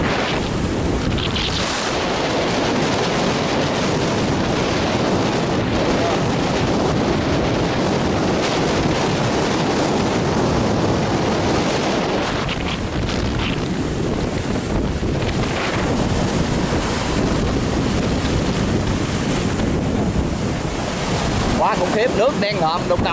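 Big storm waves crash and strong wind roars at sea, heard from a boat heading out in a storm: a constant loud wash of surf with heavy wind buffeting the microphone throughout.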